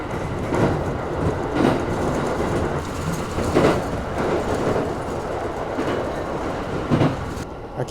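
A train runs along rails in Akita, Japan, heard from on board as a steady rumbling roll with recurring rhythmic clacks of wheels over rail joints every second or so, moderately loud and without talk.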